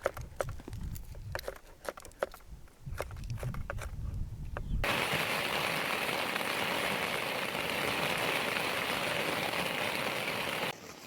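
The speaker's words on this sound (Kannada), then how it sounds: "ಸಿಕ್ಕಾಪಟ್ಟೆ ಮಳೆ ಆಗತೈತಿ" Heavy rain falls outdoors onto a tarpaulin shelter, beginning as scattered drops and patter before swelling into a loud, dense, continuous downpour that holds steady to the end.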